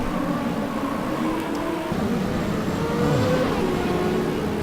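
CART race cars accelerate off the start at the 1998 Detroit street circuit in Automobilista, a dense pack of engines droning and rising together steadily, loud and continuous.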